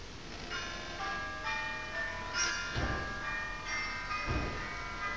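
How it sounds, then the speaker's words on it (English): Bells ring in a steady, chiming peal with bright repeated tones, moderately loud, with a couple of heavier strikes standing out. "My phone has delivered a peal to me."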